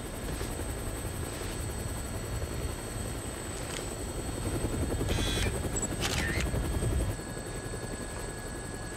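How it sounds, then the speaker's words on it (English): Helicopter in the video game Dead Rising Deluxe Remaster, a steady loud rotor drone throughout that swells briefly in the middle. "Looks like taking a helicopter was the way to go."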